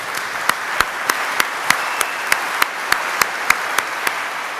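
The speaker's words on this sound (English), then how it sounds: "I think we all owe Bill a hand and an expression of our gratitude." Audience applause at a graduation ceremony for a job-training program, with steady clapping throughout and a few sharp, evenly spaced claps standing out above the crowd.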